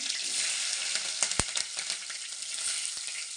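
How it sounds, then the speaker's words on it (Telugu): Green chilies and onion sizzling in very hot oil, a dense steady frying hiss close by with a few sharp pops and a spoon clink, no talk. "ఇందులో పచ్చిమిర్చి, ఉల్లిగడ్డ అయితే వేసుకుందాం"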